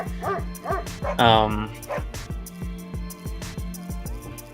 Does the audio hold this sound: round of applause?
no